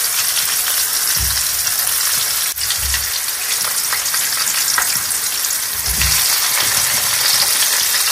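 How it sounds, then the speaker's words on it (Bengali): Potatoes frying in hot oil, a loud continuous sizzle with occasional stirring clatter and a sharp clink partway through. "ফার্স্টে আলুটা ভেজে নেবো তারপরে ফুলকপিটা ভাজবো"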